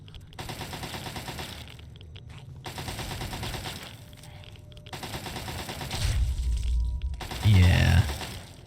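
Turret gunfire in the Fallout 3 video game, bursts of rapid shots repeating at a moderate distance alongside game ambience, with a heavier blast near the end.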